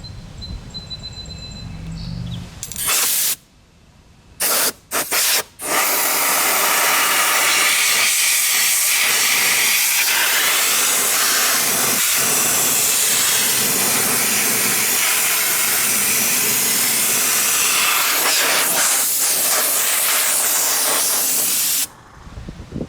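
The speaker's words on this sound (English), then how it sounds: "what I'm going to do with the blower nozzle is get right down in there and blow all that out" An air blower nozzle blasts debris out of the radiator screen of a Kubota BX23 diesel tractor. A few short hissing puffs are followed by a loud, steady rushing blast that runs for many seconds before cutting off.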